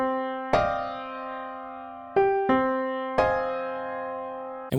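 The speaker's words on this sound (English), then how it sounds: "So I'm able to take a nice felt piano sound like this" Soft, muted felt piano playing a few sparse chords, each gentle strike ringing and slowly decaying in a quiet, intimate tone, alone with no talking.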